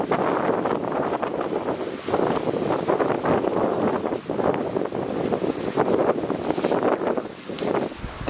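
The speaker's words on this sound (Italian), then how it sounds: "c'è un sacco di vento ancora" Strong wind gusting outdoors at a bushcraft camp in the Tuscan countryside, a loud, continuous roar buffeting the microphone throughout with no pauses.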